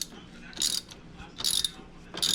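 The oil filter housing is screwed back onto a Shelby GT350 engine with a ratchet, three close, loud bursts of rapid clicking separated by short pauses.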